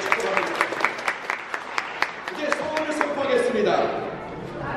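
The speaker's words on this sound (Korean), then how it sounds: "박수하겠습니다" Wedding guests clap steadily, with sharp individual claps standing out, while voices murmur and rise in the background toward the end.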